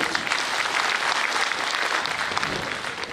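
Audience applause at a labour department event, dense steady clapping from a large crowd, loud and continuous throughout.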